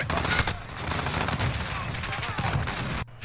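Dense, rapid gunfire from the Call of Duty Warzone video game on the Shoot the Ship map, loud overlapping automatic bursts filling the clip before cutting off abruptly near the end.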